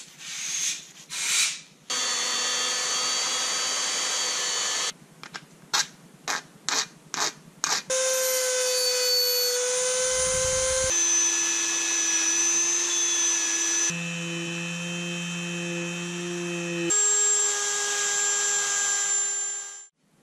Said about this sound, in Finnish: ja sen jälkeen dremelillä tuolla teräsharjalla